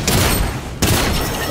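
Rapid bursts of gunfire in the Fortnite video game, loud and dense, with a brief dip in the middle before another close volley resumes.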